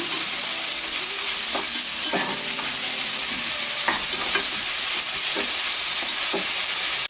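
Onions sautéing in hot oil in a pan while making fish biryani give a steady, close sizzle that runs throughout, with occasional scraping strokes of a spoon stirring them.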